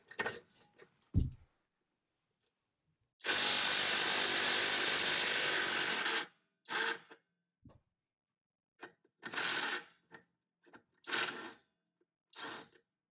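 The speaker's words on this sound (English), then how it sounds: "I need to remove the bottom bolt. That's right here. It's a 17mm." A 17mm bottom bolt on a 2006 Honda Odyssey rear shock comes off under a wrench: a long three-second burst of broadband mechanical noise, then several short metallic clicks and scrapes spaced apart, no talking.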